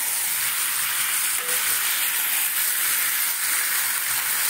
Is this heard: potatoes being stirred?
yes